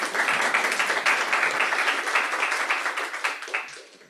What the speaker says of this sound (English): let's give another round of applause for Lisa.